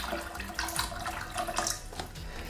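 Paint stripper with a milky look poured into a container, a steady splashing liquid stream running for a couple of seconds at close range without any talk.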